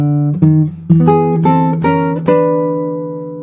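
Classical guitar picks out a short phrase of a tango, a chromatic run of distinct plucked notes rising into a final chord that rings and fades, played close with no voices.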